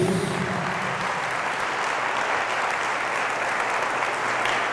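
A congregation applauds Jesus at a Pentecost vigil, a continuous wash of clapping from a large crowd that holds steady and loud throughout.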